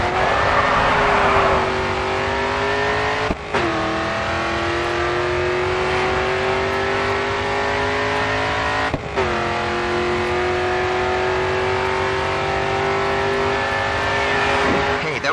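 A race car in Grid 2 held at full throttle, its engine whining loud and steady as it climbs through the revs, with two brief drops at gear changes.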